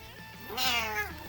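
A cat gives a single clear, rising and falling meow, close and fairly loud, lasting about half a second over quiet background hum.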